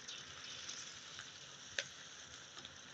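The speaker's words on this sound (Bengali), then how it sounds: "মশলাটা আমি ভালোভাবে কষিয়ে নিলাম" Spices such as turmeric and chili powder sautéing in a pan for shrimp curry with yardlong beans: a steady, quiet sizzle with soft crackles and one sharp pop, close to the pan and with no talking.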